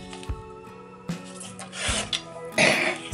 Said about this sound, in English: I still have my awful cough